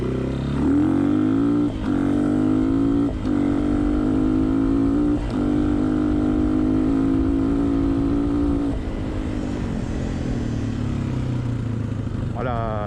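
A Honda XLR125R motorcycle fitted with a Chinese CDI revs hard up close, its loud single-cylinder buzz climbing and dropping in pitch through several pulls before easing off.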